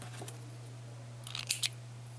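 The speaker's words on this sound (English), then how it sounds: "Oh, sharp new scissors." Sharp new scissors snip yarn ends from a crocheted hat, a few quick crisp cuts close by with a faint steady hum behind them.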